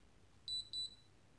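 A Satel Perfecta alarm panel signals a fault with two quick pairs of shrill, thin beeps, faint and close, with near silence before and after.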